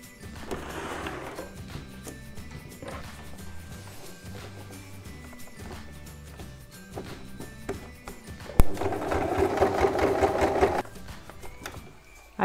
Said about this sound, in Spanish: vamos a hacer el pespunte bien cerquita del borde